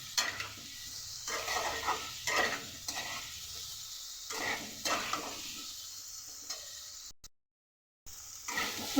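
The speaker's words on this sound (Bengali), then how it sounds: "ভালো করে ভাজবো।" Onions and potatoes fry with turmeric and salt in a pan, a steady sizzle broken by repeated stirring scrapes and clinks of a utensil against the pot, with a brief silent gap near the end.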